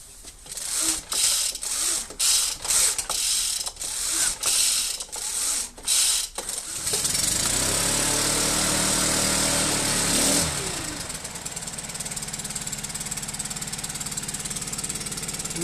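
A Stihl BR 800 backpack blower is pull-started, several rhythmic ratcheting cord pulls before the engine catches and roars into a loud, steady high-pitched whine that settles to an idle.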